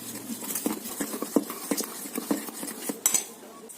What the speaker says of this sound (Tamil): இப்போ மாவு மிக்ஸ் பண்ணிக்கோங்க.